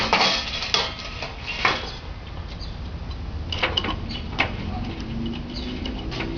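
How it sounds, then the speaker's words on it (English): A knife cutting apples on a board, with a series of close, sharp chopping ticks at uneven intervals, moderately loud over steady low room noise. "I'm going to cut a couple apples."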